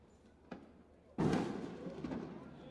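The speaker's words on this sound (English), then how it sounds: "Those are cannon shots." A nearby cannon fires at a youth baseball state tournament: a small pop, then a heavy booming blast that rumbles and decays over the next second or so.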